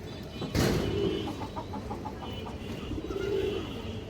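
A pigeon coos twice, each a low rolling call a little under a second long, close by, with faint clucking and chirps in between and no talk.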